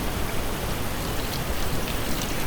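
Tap water runs steadily over raw pork chops being rinsed in a kitchen, a continuous soft hiss of spray with no break.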